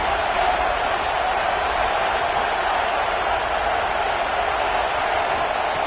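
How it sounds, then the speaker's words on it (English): Football stadium crowd roaring steadily as the home defense faces a red zone stand, a dense, continuous wall of cheering noise that holds loud and even throughout. "And here comes the noise. This crowd is trying to inspire this defense to make a big red zone stop."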